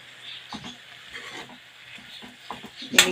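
Cooked leafy greens (bhaji) being stirred and mixed in a pan, with soft scraping and sizzling strokes in a loose rhythm, close by, ending in a sharper clatter of the spoon against the pan.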